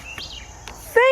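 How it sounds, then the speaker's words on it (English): A bird sings in a backyard organic vegetable garden, a few short chirps and whistles followed by a clearer, louder tonal call at the end, heard close over faint outdoor background. "that's a nice bird sound"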